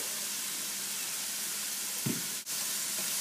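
Food cooking down in a pan, with curly kale and teriyaki-glazed salmon on the way: a steady, faint, even sizzle holds throughout, with one small pop midway.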